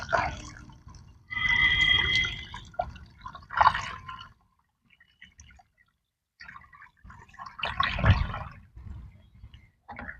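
Water is gently poured onto loose soil in a lotus pot over cow-dung manure, giving soft splashing and trickling bursts separated by quiet gaps, close and fairly faint.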